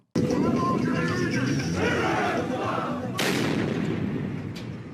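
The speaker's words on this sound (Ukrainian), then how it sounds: "Тоді мить вибуху випадково зафільмували аматори." A loud sudden blast hits after crowd murmur and voices, followed by a roaring, crackling rumble that slowly fades.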